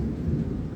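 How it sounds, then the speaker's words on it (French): Thunder rolls through a thunderstorm over Mumbai, a deep, continuous low rumble that stays loud and steady for the whole moment, with no voices over it. "there are a lot of thunderstorms in the background here in Mumbai today"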